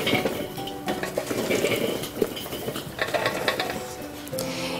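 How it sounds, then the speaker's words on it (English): Charcoal coals on a Weber barbecue grate are pushed and spread around, making steady close clinking, scraping and rattling of lumps against the metal grate with no speech. "Distribute your coals evenly over the cooking grate"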